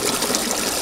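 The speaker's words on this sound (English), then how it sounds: "Raw sewage flowing in this informal settlement which borders the dump site." Raw sewage flowing openly through an informal settlement beside a garbage dump, a steady, close wash of gushing, trickling water without pause.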